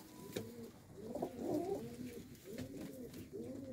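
Breeder pigeons coo in their coop, soft rolling calls repeating close by and overlapping in a steady, gentle rhythm over a quiet background.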